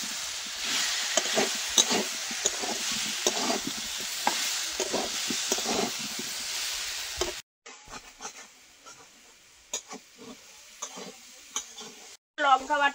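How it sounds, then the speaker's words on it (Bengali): Maan kochu (giant taro) being sautéed in a pan, a steady close sizzle with scraping stir strokes for several seconds, then a quieter stretch of sparse stirring and pan noises. "কচুটা ভালো করে কষিয়ে নেবো।"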